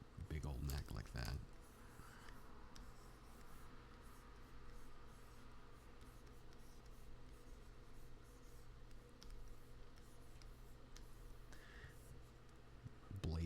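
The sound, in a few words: pen drawing on paper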